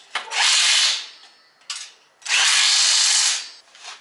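A pneumatic rattle gun (impact wrench) hammers bolts on a Renegade 12-tonne shop press, sounding in two loud, close bursts with a short pause between them and a brief start at the end.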